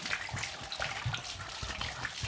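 Water splashing and rinsing soap off a Mazda MR 90 headlamp, a close, busy gush with irregular splatters and drips throughout.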